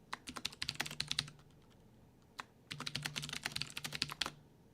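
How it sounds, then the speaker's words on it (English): An old, clicky computer keyboard being typed on: close, crisp rapid key clicks in two bursts separated by a pause with a single stray keystroke, moderately loud and with no voices. "here's how the old keyboard sounded"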